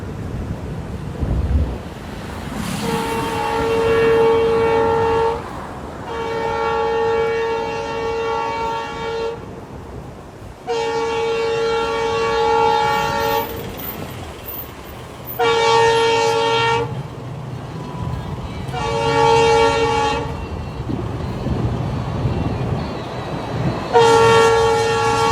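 A train runs across a new railway bridge at Rameswaram during a high-speed test, sounding repeated long horn blasts over a steady rumble and rushing, surf-like wind noise, with no voices.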